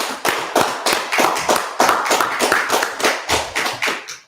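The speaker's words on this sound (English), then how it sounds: "Let's go ahead and clap it up one more time" An audience at an evening class claps in a loud, rhythmic unison beat, about a dozen sharp, evenly spaced claps in quick succession, close by and with no talk.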